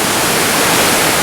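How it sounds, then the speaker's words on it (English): Inukai Falls, a 36-metre waterfall in Kagoshima, Japan, producing a loud, steady broadband rush of falling water close by without pause. "This waterfall is called Inukai-daki."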